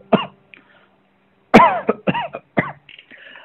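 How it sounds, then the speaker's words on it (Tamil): Several sharp human coughs, one isolated at first, then a cluster of three or four in quick succession, close and clear. "காஃப், இருமல்."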